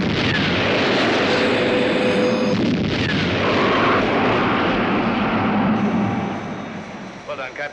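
A missile launch in a 1970 science-fiction drama: a loud, sustained roaring blast that holds for several seconds before fading, with a voice speaking briefly near the end.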